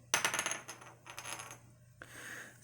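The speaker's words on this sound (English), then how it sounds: "I'm going to roll my dice" Dice tumble across a tarot reading board in a few quick, bright clattering bursts, faint and close, with short gaps between the rolls and no talk.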